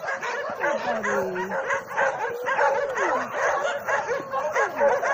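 Several dogs at a dog shelter in Montenegro bark, yip and whine together close by, with rising and falling whimpers mixed among sharp barks in a busy, continuous chorus.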